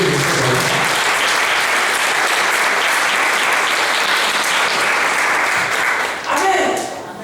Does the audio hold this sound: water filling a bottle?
no